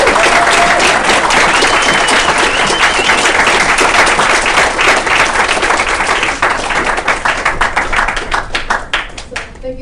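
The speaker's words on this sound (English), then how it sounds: "Awesome. Round of applause" Audience at a trauma center panel discussion applauding loudly and steadily for several seconds, the clapping thinning out near the end.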